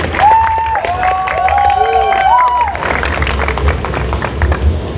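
Audience applause at a CES stage event as a regional director walks on, a steady wash of clapping and some cheering with an announcer's voice over it at the start.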